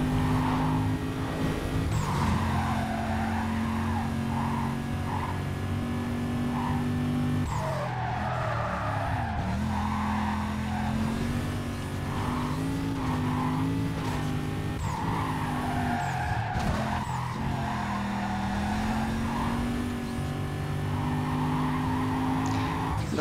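A Mercedes in Need for Speed Carbon races hard, its engine droning steadily while tires repeatedly squeal and skid through corners, with a few sharp impacts or gear shifts breaking the continuous roar.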